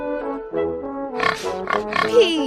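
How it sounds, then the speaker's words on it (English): A pig oinks and grunts in a short series of snorty calls, close and fairly loud, set among gentle musical tones. "Pig."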